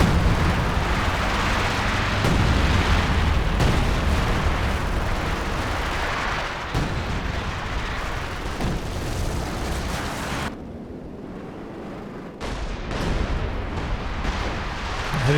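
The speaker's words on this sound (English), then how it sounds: "Some Sexton fire coming in." A Sexton self-propelled gun barrage lands in Company of Heroes 2, with repeated booming impacts and rumbling blasts over a continuous battle din, then a short quieter lull before the noise picks up again.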